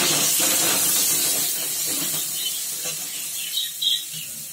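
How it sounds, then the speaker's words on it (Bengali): Greens, eggplant, stems and potato hit a hot pan with a loud, bright hiss of steam that gradually softens, with a few small clatters near the end. "পাতা, বেগুন, ডাঁটা, আলু সব দিয়ে দিলাম।"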